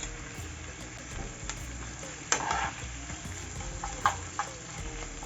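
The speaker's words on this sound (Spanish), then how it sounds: "Lo voy a mover para que se integre con la cebolla y el ají" Clams and catfish sizzle in a pan with onion and pepper while a utensil stirs them, producing a steady frying hiss with a few scraping knocks, close and moderately loud, no voices.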